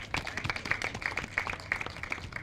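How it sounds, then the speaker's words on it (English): Light scattered clapping from a small conference audience, a few seconds of uneven hand claps after a presentation, with a faint voice underneath. "Let's clap for her again."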